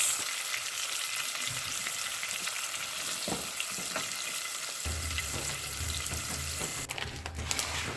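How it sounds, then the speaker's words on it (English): Basmati rice toasting in hot oil for geera rice, a steady broadband sizzle throughout with a louder, fuller rush near the end as the grains are stirred through the oil; no one speaks. "And then I'm going to add my 2 cups of basmati rice."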